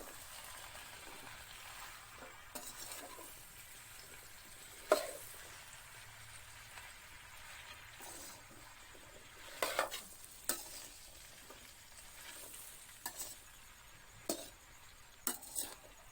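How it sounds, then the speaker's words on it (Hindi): Spice mix with turmeric being stirred in a pan: soft, quiet scraping and stirring with occasional sharp clinks of a spoon against the pan, faint and sporadic with no talk. "अब इस मसाले को मैं मिक्स कर लूंगी।"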